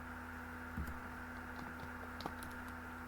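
Someone types on a computer keyboard, with sparse soft key clicks and a couple of sharper taps over a steady electrical hum.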